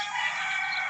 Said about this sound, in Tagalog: Ang ganda yung ibon.